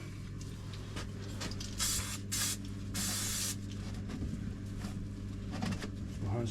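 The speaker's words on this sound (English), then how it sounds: "So we've got a silicone lubricant." Aerosol can of silicone lubricant sprayed onto a CV joint cone during a Range Rover L405 boot replacement; a few short hissing bursts over a low background hum.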